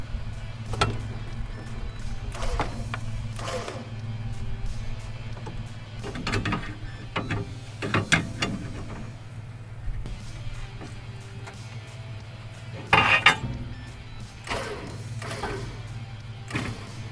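A winch cranked to pull the rear end of a racecar into line during drivetrain assembly, giving bursts of mechanical clicking and ratcheting spread over a low steady hum, with a louder clatter near the end.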